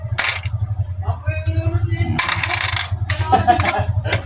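Coins in ten-peso and one-peso denominations dropped one handful at a time into a new store cash drawer, giving several bright metallic clinking bursts over a steady low hum.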